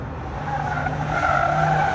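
Car tires skidding and squealing in a parking lot, a sustained rising screech over a low engine rumble lasting about two seconds, alone without talk.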